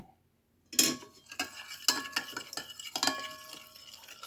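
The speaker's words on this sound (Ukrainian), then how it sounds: "Розмішую." A utensil stirs a thick pancake batter of eggs, kefir and baking soda in a bowl, with repeated scraping strokes and a few sharper clinks against the side.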